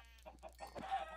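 Chickens in modded Minecraft give a short burst of clucks, a few quick bird calls in a quiet pen where they lay eggs, close and moderately loud.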